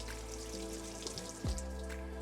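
Water is poured into the soil of a potted greenhouse tomato plant, giving a soft, steady trickle and splash close by. A low hum runs underneath.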